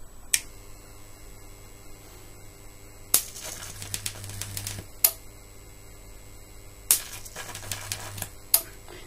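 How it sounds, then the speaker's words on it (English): Sharp electric arcs drawn from a high wattage power supply crack and snap in several short bursts, each a burst of crackling sparks with a low hum between them, close and alone. "Okay, drawing a big arc."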